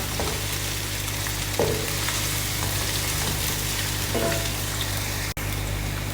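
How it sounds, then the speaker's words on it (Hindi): Onion, ginger and garlic paste frying in a pan for curry pakora, a continuous close sizzle and crackle with a few faint clinks of stirring, and no talking. "ये प्याज और अदरक लहसुन का पेस्ट ये अच्छे से फ्राई हो चुका है"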